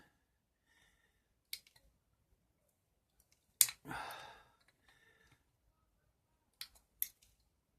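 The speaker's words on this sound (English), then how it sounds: "Now, I'll cut off the heat sinks with these." Metal cutters snip off heat sink terminals on a Tesla coil build: a few sharp, isolated clicks spaced several seconds apart, with one louder snap followed by a brief rustle, in an otherwise quiet room.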